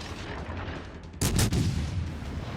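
A warship's main guns fire a salvo in World of Warships, a heavy booming blast that erupts suddenly and rumbles on over low engine and sea ambience.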